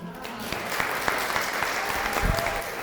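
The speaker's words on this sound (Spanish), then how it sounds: "¿Por qué no le damos un fuerte aplauso?" Congregation applauding in a church service, broad sustained clapping from many hands with a few sharper individual claps standing out, while a voice speaks briefly over it.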